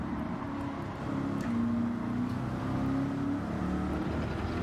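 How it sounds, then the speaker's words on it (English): A car engine in Gran Turismo 7 drones and rises in pitch as it accelerates through the lower revs, a steady mid-loud hum with gear changes and no talking. "It's much better in the lower revs, so the acceleration is much better in the lower revs."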